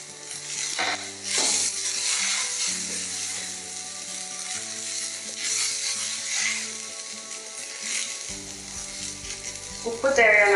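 Potatoes, onion and cabbage sauté in a pan with a steady, close sizzle. Occasional scraping stirs break through, and a sharper burst of frying rises near the end.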